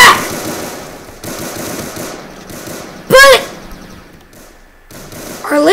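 Laser guns fire in the Roblox video game as dense, crackling bursts of rapid shots that come in clusters over a steady background of game noise, with a sharper, louder volley near the middle.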